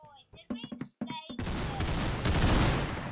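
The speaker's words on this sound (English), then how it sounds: "the Python isn't good with, like, forward shooting" Python revolver gunfire in the Roblox game Arsenal. A loud, dense burst of shooting follows a moment of voiced sounds and keeps going to the end.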